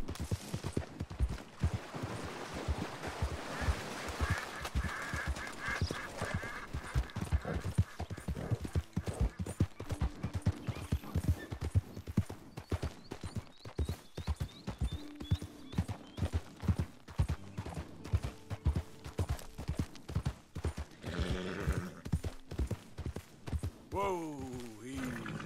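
Horse hooves clip-clop steadily in the video game Red Dead Redemption 2, a close, continuous run of sharp hoof strikes on hard ground that slows and thins toward the end, with other faint game sounds behind.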